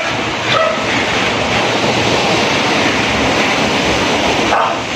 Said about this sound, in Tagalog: Ay, may buhawi.